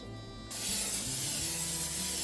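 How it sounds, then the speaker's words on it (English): A steady close hiss of canola cooking oil spray onto chicken starts abruptly and continues without pause to the end. "I'm going to spray some cooking oil on this chicken"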